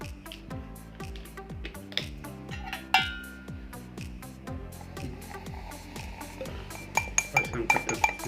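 Jaljeera powder being mixed into Limca in a glass, a spoon clinking repeatedly against the glass in a fast, steady rhythm, close and fairly quiet, with sharper taps near the end.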